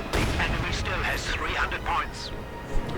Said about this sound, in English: And of course, lots of heavy mortar fire.